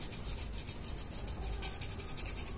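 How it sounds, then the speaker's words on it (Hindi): A brush is worked lightly over a computer motherboard during a wash-style cleaning, giving a continuous dry, raspy scrubbing with rapid back-and-forth strokes, close and steady with no talking. "हल्के हाथ से बिल्कुल ब्रश चलाएंगे इस पर"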